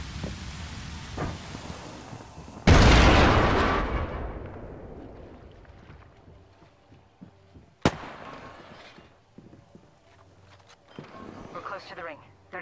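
A frag grenade in a video game explodes with a sudden loud boom that rumbles and fades over a couple of seconds, followed later by a sharp crack and quieter game sounds.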